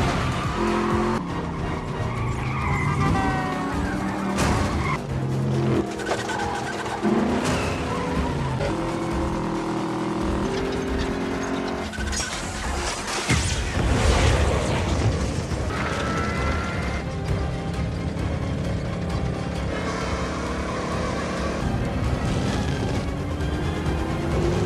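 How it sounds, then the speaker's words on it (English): A 1956 Ford Crown Victoria races in a road race scene, with engines roaring, repeated loud tire squeals and skids, revving passes and a heavy impact partway through, all dense and close. "Let's check out a clip from the Fast and the Furious 8, which sees Vin Diesel pitted in a road race against one of these 1956 Crown Vics."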